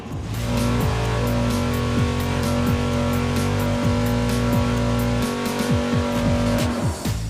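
A V8 engine on a dyno holds a steady 5,800 rpm, a loud, dense roar with strong harmonic drone that stays level, with occasional brief pitch sweeps near the start and end of the run.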